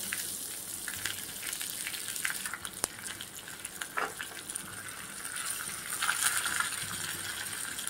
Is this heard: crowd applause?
no